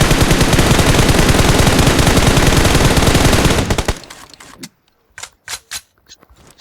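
Gunfire in PUBG Mobile: a loud, sustained burst of rapid automatic fire, then scattered single shots and a few sharp bursts as the firing trails off.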